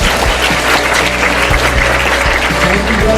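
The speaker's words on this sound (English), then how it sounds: "Once again, one more round of applause." Sustained audience applause fills a library writers series reading with author Okey Ndibe, a dense, even wash of many hands clapping throughout, loud and steady with no pauses.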